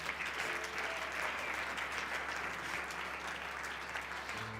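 A church congregation at an Easter service bursts into steady, sustained applause mixed with crowd noise, filling the whole stretch evenly at moderate volume.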